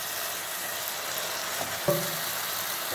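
Brinjal thokku sautés in hot oil with a steady, soft sizzle and faint frying crackle throughout, plus one brief stir or clink of a utensil near the end.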